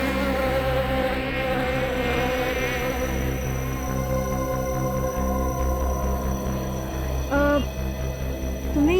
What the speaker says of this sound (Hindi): तुमने ये आवाज सुनी? किस तरह की आवाज? भिनभिनाने की, मक्खी के भिनभिनाने की।